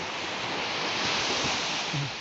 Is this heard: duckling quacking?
no